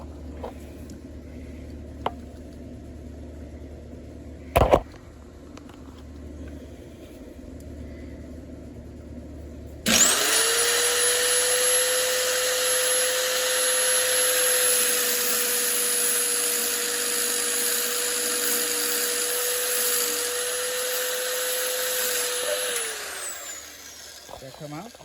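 Bauer compact circular saw from Harbor Freight cutting chicken coop door framing: after a few faint clicks and a sharp knock, the blade spins up loudly and whines steadily through the cut for about thirteen seconds before winding down.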